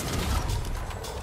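Mechanical clicking and ratcheting of a gun being reloaded in Fortnite, a steady close-up run of metallic clacks lasting about a second with no voices.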